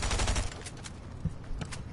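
Rapid automatic gunfire in a video game arena match, a fast burst of shots that trails off into a few scattered, quieter rounds.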